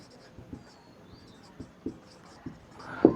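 Quiet chalk or marker strokes on a board during a Bengali physics lesson on Coulomb's law, a handful of short, soft taps and scrapes spaced irregularly over faint background hiss, with no talking.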